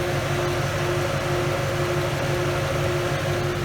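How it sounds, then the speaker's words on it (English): A supercharged 2018 Ford Mustang with a 10R80 transmission idles with its fan running, giving a steady, even hum and whir with a constant tone and no change in level. "car has been sitting here running mostly to let the chiller do its job. The fan is on."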